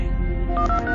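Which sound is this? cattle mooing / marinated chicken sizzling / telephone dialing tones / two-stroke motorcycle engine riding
telephone dialing tones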